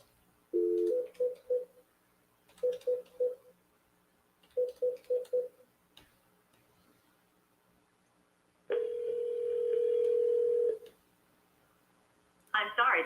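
A telephone sounds on an outgoing call, with short beeps in clustered groups of three or four, a long steady tone, then a final burst. The tones are clear against a quiet background.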